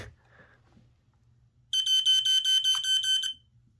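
A Fyrnetics 1275 smoke detector sounds a rapid series of loud, shrill electronic beeps in a quiet room, about eight pulses in quick succession after a faint low hum.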